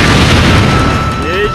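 A booming explosion from the Naruto Shippuden Gekitou Ninja Taisen Special Wii game lands loud and close, a dense rumbling blast that slowly fades while a short whistling game effect rises near the end.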